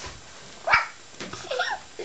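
A four-week-old Parson puppy gives a single sharp bark followed by a few softer yips and whines, close by in a quiet room.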